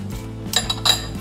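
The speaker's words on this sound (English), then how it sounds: "we'll put a little bit of the butter on a piece of sprouted whole wheat toast" A knife scraping raw butter across a slice of sprouted whole wheat toast, with several short, close scrapes and light clinks against a plate amid quiet kitchen noise.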